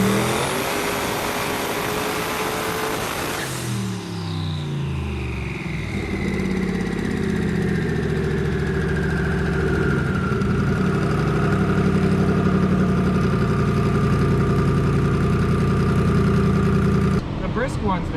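Twin-turbo Coyote V8 Mustang on a hub dyno, running on four cylinders with misfiring: a loud, rough, steady close engine drone after a brief higher whine, with voices talking in the background.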